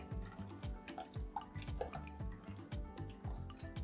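Coolant drains out of a flushed Thermaltake Pacific CL360 PC radiator, a quick run of small drips and trickling splashes, faint and close, with no talk.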